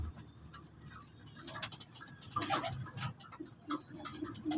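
Racing pigeon, the offspring of a champion bird, coos softly a few times at close range amid light handling and background rustle.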